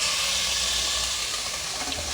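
Half a kilo of beef sizzles in hot oil in a pot over a stove, a loud, steady frying hiss with faint crackles throughout.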